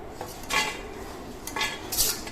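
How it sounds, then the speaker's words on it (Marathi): Whole spices such as cloves and cinnamon are roasted in a pan with a little oil, giving faint metallic scrapes and light clinks of a stirring utensil in a few separate strokes. "आता मी सर्व खडा मसाला भाजून घेते"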